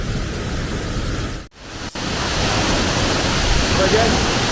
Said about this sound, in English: talking about the waterfalls on the way down